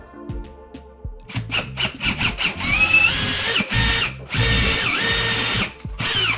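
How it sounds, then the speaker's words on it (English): A power drill with a 5/32 bit whines and squeals in repeated short bursts, then longer sustained runs as it bites through a metal TV wall mount bracket, loud and close. "We're gonna use a 532 drill bit to drill through the first hole"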